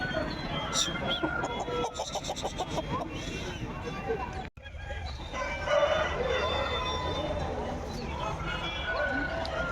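A rooster crows and clucks at a poultry market alongside other fowl, amid a busy hum of nearby talk and market bustle.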